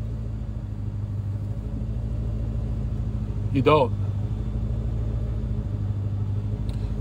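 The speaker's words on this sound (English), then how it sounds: "I like what you did with that exhaust, right? It makes it sound like you got an expensive car." A car with a modified exhaust gives a deep, steady rumble close by. Someone speaks briefly over it midway, and the low drone carries on unchanged before and after.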